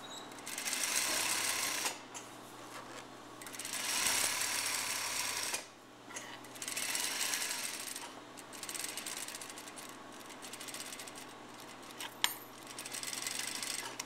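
A sewing machine stitches a half-inch seam on a blouse in bursts of fast, even whirring lasting a second or two each, separated by short pauses, close and moderately loud.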